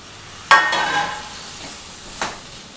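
Masala and drumstick pods stir-fry in hot oil for a drumstick bhaji, sizzling close and loud with two sharp scraping stirs, the second one fainter.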